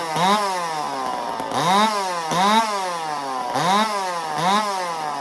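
A ported Homelite XL-870 gasoline chainsaw runs steadily up close, its engine rising and falling in repeated revving surges about every second, with no talking.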